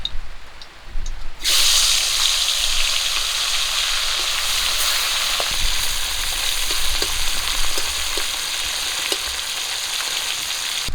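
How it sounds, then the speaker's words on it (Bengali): Koi (climbing perch) fish drop into hot oil in a wok and burst into a loud, continuous, close sizzle that holds steady after a quieter start. "তেলটা ওই দিকে গরম হয়ে গেছে মাছ দিয়ে দেবো কড়ার মধ্যে"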